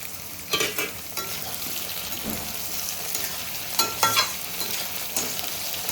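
Potatoes and soaked green peas frying in a curry pan with coriander, a soft steady sizzle with intermittent stirring scrapes and clatters.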